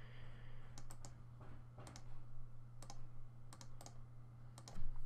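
Short bursts of typing on a computer keyboard, a few quick clusters of clicky keystrokes separated by pauses over a steady low hum, close and fairly quiet, with no talk.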